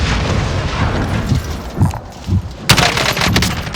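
Video game battle gunfire in a helicopter combat match: dense, continuous rattling shots with several louder bursts and booms, close and loud throughout with no talking.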